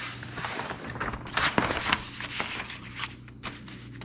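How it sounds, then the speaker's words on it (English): Paper from a large roll rustles and crinkles as it is handled and pressed into a Jeep Freedom panel, with a steady stream of close, papery crackles and soft taps. "I got a giant roll of this paper, so I took some, laid it in here"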